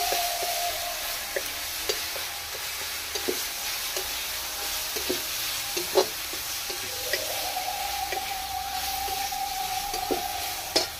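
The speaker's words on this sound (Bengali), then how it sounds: "আদা রসুনের পেস্ট দিয়ে দিচ্ছি। আরো খানিকক্ষণ নেড়ে নেব।" Ginger-garlic paste frying in oil in a pan gives a steady soft sizzle, close up, with a spatula tapping and scraping at an irregular pace over it.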